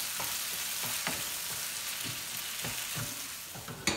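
Egg sizzling in a hot pan on the stovetop while a utensil stirs and scrapes through it, steady frying hiss with soft irregular scraping strokes, moderately quiet and without any talk.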